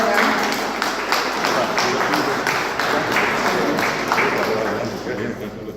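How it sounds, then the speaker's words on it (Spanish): An audience at a cultural event at an Ateneo of Guarani language and culture gives steady, sustained applause welcoming a vice minister, with many hands clapping continuously while a voice speaks over it. "Vamos a recibirle con fuerte aplauso."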